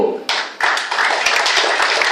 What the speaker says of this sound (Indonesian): yang bertepuk tangan jangan ragu-ragu